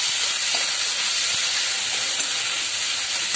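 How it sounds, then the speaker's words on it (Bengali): Onion paste frying in hot oil in a pan for a Bengali egg korma, giving a steady, loud, close hiss of sizzling that runs unbroken throughout with no talk. "এবার দিয়ে দিলাম পেঁয়াজ বাটা। একটু ভেজে নিয়ে বাকি মশলাগুলো দিয়ে দেব।"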